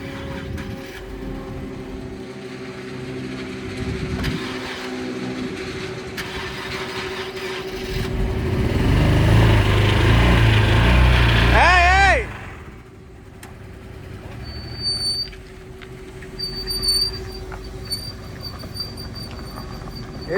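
A damaged Copart salvage car with an engine near locking up runs and drives, a loud rough engine drone that swells, then drops off, with people talking throughout.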